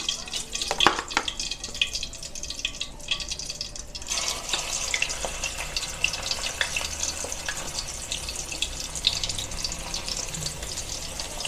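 Milkfish (bangus) frying in hot oil, a loud crackling sizzle with sharp pops and spatters throughout, growing busier and denser after a fresh piece goes into the pan.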